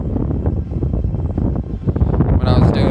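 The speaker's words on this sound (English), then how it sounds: "I think it's just the wind from the trees." Gusty wind sweeps through the trees of a downtown park, rumbling and buffeting against the microphone in uneven surges, with faint voices mixed in.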